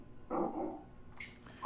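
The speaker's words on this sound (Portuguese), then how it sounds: "Tem um cachorro aí na casa de alguém." A single muffled dog bark comes from a nearby house, faint and distant, followed by a quieter whimper.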